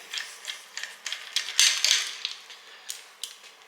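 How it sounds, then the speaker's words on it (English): Ratchet removing a spark plug from a Ford FG XR6 Turbo engine, a series of close, crisp clicking bursts in an uneven rhythm, alone without talk. "you obviously want to remove your spark plug"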